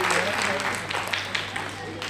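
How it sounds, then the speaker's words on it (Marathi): Loud applause from an audience at an awards ceremony, a brief burst of clapping with a voice talking over it. "जोरदार टाळ्या."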